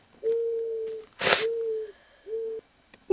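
A bird in the Minecraft video game gives three steady hooting calls with short pauses between, clear and alone apart from a brief breathy burst in the middle.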